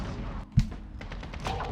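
Gunfire in a video game shooter fired with a sawed-off shotgun loaded with slugs, a single heavy thumping shot over a dense background of game noise and rattling, close and brief.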